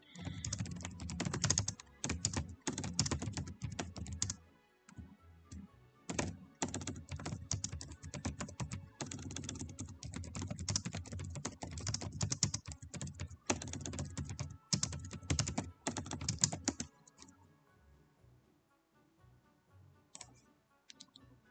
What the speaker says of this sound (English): you heard me typing.